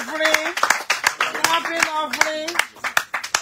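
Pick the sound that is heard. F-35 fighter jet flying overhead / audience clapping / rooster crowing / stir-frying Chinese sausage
audience clapping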